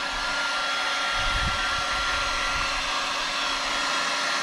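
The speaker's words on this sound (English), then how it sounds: "Right, high, Ryobi heat gun, nice and simple." A Ryobi heat gun on its high setting blows a loud, steady roar of hot air onto heat-shrink tubing on wiring of a John Deere LX176 lawn tractor, a continuous whine with slight low rumble.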